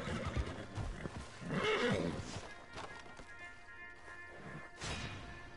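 A horse whinnies in the Western video game Red Dead Online, with hoof clip-clops and busy game sound effects around it, the neigh swelling loudly near the middle and fading after.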